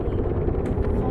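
Twin turboprop engines of a DHC Dash 8 airliner run at full throttle in a flight simulator game, giving a loud, steady, dense roar that fills the whole moment without a break.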